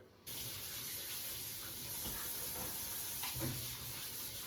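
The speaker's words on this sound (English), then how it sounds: "Gotta wash your hands because that's very important" A kitchen tap gushes in a steady, close hiss as hands are washed, with small splashes and knocks near the sink partway through and no voices.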